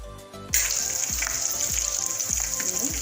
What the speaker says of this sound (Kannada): ಬೆಳ್ಳುಳ್ಳಿ, ಮೆಣಸಿನ್ಕಾಯಿ ಹಾಕ್ತಾ ಇದ್ದೀನಿ,